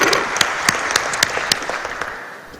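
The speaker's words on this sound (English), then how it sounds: "a big round of applause, please, for the President of Eurobitume." Applause from a conference audience greeting the President of Eurobitume, a dense crowd clapping that starts full and gradually fades, with a few sharper individual claps standing out.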